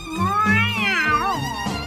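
A cat meows in a drawn-out, wavering cry with rising and falling pitch, loud and close, ending in a shorter second call.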